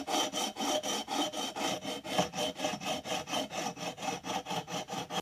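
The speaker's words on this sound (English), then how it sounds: "I'm just going to use a precision beam like this with some stick-it sandpaper on it and start going at the fretboard here" Stick-on sandpaper on a precision beam rasps over the fretboard of a Gibson Les Paul Silverburst in steady back-and-forth strokes, a close, even rhythmic scraping with no talk.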